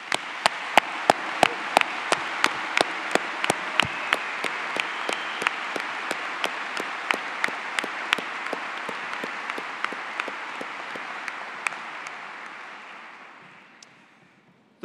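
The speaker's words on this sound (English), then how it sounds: "Let's give them a round of applause." Audience applause at a high school graduation ceremony, a dense sustained clapping from a large crowd with sharp individual claps standing out, holding steady for about twelve seconds before tapering off.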